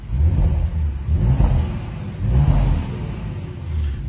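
An Audi RS 5 Sportback engine rumbles and revs in low surges, rising twice and settling, close by with no talking.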